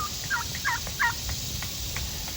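Turkeys gobble in three quick bursts, then fainter calls follow, all over a steady low background hum outdoors.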